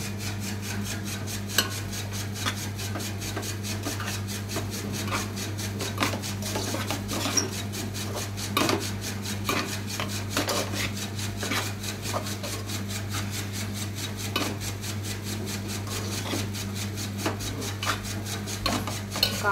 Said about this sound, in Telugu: కారం అంతా కలిసేదాకా తిప్పుకొని కొంతసేపు అలా ఉంచండి.